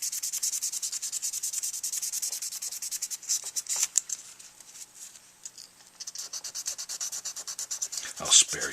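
A bass clarinet mouthpiece is rubbed on 600 grit sandpaper in quick, rhythmic back-and-forth strokes, a close, bright scratchy rasp that pauses briefly midway before resuming, ending with a sharper scrape.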